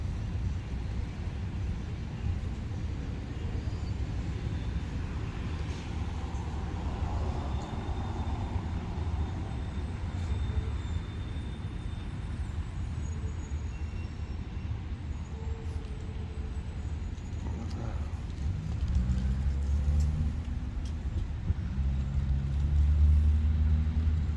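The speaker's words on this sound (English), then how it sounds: "there's lots of cars going around and stuff" Steady traffic from cars on a nearby road heard outdoors, a continuous low rumble with a louder vehicle swelling close by near the end, under a light breeze.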